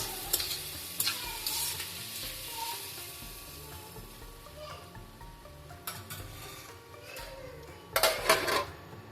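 A spoon stirs an ivy gourd and tomato curry in a pan, with soft simmering and sizzling, scattered utensil scrapes, and a louder clatter near the end.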